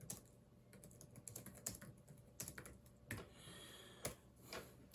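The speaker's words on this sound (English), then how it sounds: "we'll do a test type" Test typing on a Logitech Slim Folio keyboard case for iPad: quiet, irregular clicking of keys in short bursts, close and alone with no talk.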